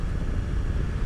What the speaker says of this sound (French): le shifter, voilà, en 2500 tours, je passe en 4, pas d'à-coup